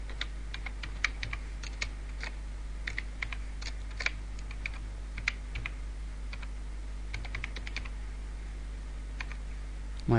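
Typing on a computer keyboard while signing in to Yahoo Messenger, with scattered, irregular key clicks in short bursts over a steady low hum, fairly close and moderately quiet, with no talking.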